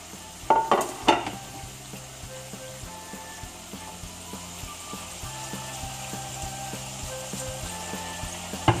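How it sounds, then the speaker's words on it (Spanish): Browned chickpeas tipped into a pan with meat for ropa vieja, opening with a few clattering stirs and then a steady soft sizzle with regular faint ticking, close and moderately quiet. "ahora vamos a echar los garbanzos doraditos"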